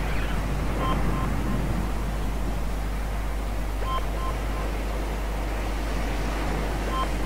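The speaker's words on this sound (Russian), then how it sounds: "А, я на волнах качаюсь." Steady wash of ocean waves and surf from Subnautica, a continuous rolling rumble with faint beeping tones surfacing now and then.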